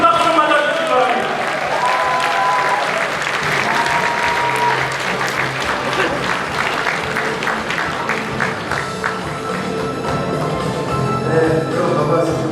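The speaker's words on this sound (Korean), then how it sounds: "여러분 박수 맞아주시기 바랍니다" Audience applause at a political party member training and inauguration ceremony in Chungnam, a loud sustained clapping from a large crowd throughout, with a speaker's voice faintly over it.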